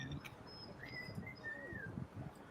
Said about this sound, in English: This bird is killing me. The dog is crying. The bird is singing.